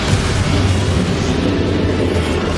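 A Confringo fire spell from Hogwarts Legacy blasts amid combat with Ranrock, a loud, continuous booming roar of explosion and rumbling debris that holds steady throughout with no clear pauses.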